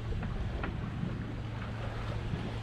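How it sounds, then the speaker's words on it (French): A sailboat leaving port under sail running downwind, with steady wind rush over the microphone and low water sloshing against the hull, faint and continuous with no voices. "on est parti du port directement sous voile en sortie de port"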